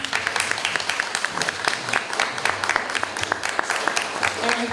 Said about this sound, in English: Can we please pause for a round of applause?